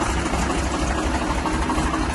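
A tractor's engine passing by, a steady low and mid-pitched drone holding constant for a couple of seconds without any voices.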